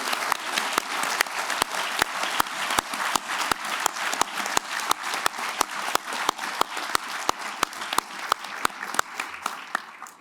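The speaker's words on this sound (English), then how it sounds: "I would like for us all simply to give a round of applause" A roomful of people at a law conference clapping for veterans, a steady wash of applause marked by regular sharp claps nearby, running evenly for about ten seconds before tapering.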